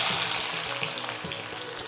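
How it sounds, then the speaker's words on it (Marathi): Onions sizzle in about half a cup of hot oil as they are added a little at a time for crisp frying, a soft steady crackle and hiss with faint bubbling. "सो आपण आता कांदा तळूया."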